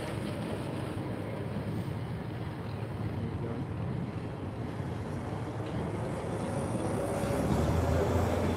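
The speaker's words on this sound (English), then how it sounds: "One of the few vehicles you can talk about when it drives past." Quiet wheeled British Army vehicle driving past at a tank show, a steady low rumble with wind noise that swells slightly toward the end, and no voices.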